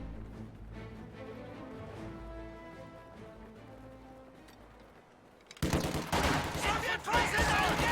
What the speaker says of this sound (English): Can that machine gun just fire through this vision blocker?